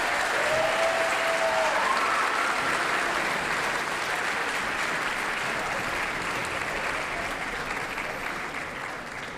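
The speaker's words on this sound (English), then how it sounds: "one more round of applause for Mr." A crowd claps steadily for Mr. Tucker and his band at a band gathering, dense sustained applause with a faint whistle early on, easing slightly toward the end.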